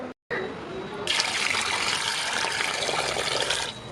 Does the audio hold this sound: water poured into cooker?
yes